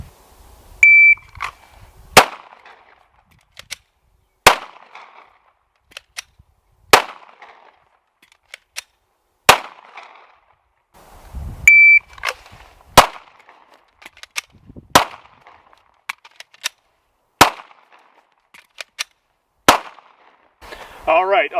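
Sharp pistol shots crack out at close range during slide lock reload drills, spaced by short pauses, with a shot timer's beep sounding twice and faint handling noise between strings.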